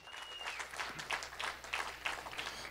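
A church congregation claps along during a Sunday service, a steady rhythmic series of hand claps from many people, moderately loud and continuous with a faint tone at the start.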